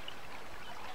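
Steady broadband wash of creek water flowing and trickling over a shallow bed on Sugar Cube Creek on a cool morning, continuous and close with no talk.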